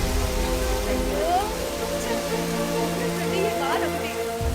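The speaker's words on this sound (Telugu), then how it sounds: "ఏ రోజు వాన పడాలో ఆ రోజు పడదు" Heavy rain pours steadily in a dense, continuous hiss, with a faint voice briefly heard under the downpour.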